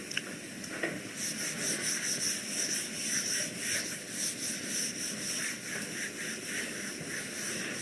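Someone rubs out writing on a board in a classroom, a continuous scratchy rubbing with rhythmic back-and-forth strokes that runs for several seconds, close and fairly loud, with no talk.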